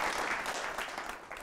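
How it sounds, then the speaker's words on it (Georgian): A television quiz show studio audience gives a short round of applause, a quiet, steady patter of many hands that fades slightly over a second and a half. "აპლოდისმენტები ირაკლის"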